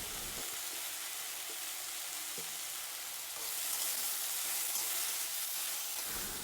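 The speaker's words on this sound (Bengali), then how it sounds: "ভাজা হয়ে গেছে, এবার পরিমাণ মতো নুন আর হলুদ আমরা দিয়ে ভালো করে নেড়ে নেবো" Mustard paste frying in a pan with salt and turmeric, giving a steady close hiss that swells partway through, with faint scattered clicks of stirring and no voices.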